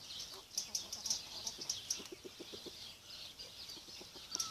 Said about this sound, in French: Le faisan commun.